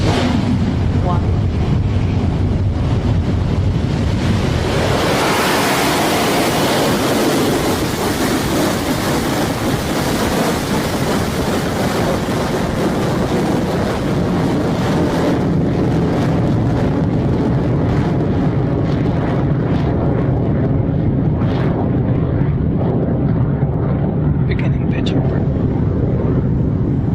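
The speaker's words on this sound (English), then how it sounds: "Successful liftoff for Electron from Launch Complex 1" A Rocket Lab Electron rocket lifts off from Launch Complex 1 with a continuous loud, broad roar that swells after a few seconds and holds steady for the rest of the stretch, with announcer talk faintly under it.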